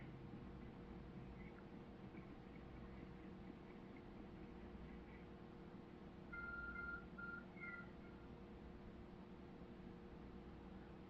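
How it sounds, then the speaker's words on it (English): A phone-like object in Pokémon Legends Arceus gives off a few short electronic beeps midway through, faint over a constant hum of background noise. "There's a glowing beeping object over there."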